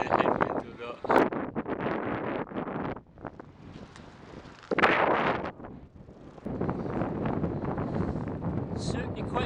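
Strong wind buffets a microphone while a cyclist rides a long-distance route northwards into a breezy headwind on a coastal road, with loud gusty roaring that surges and eases and nearly drowns out the rider.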